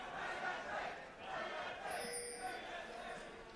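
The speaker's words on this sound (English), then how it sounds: "the crowd yelling for Fnatic" An esports arena crowd at a League of Legends playoff semifinal yells and cheers for Fnatic, a dense roar of many voices rising and falling, fairly quiet beneath the broadcast.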